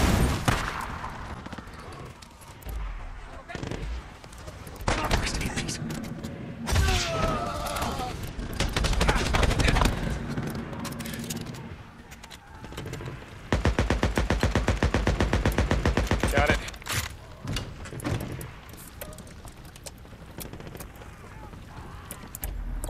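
Machine gun fire from enemies in the game Days Gone crackles in rapid, sustained bursts, loud at times and broken by pauses, with other game effects and occasional talk layered over it.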